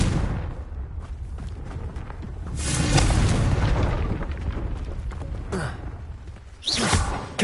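A fiery Confringo explosion in the Hogwarts Legacy game swells into a loud, roaring boom, followed by a quieter stretch and a final sharp burst at the end.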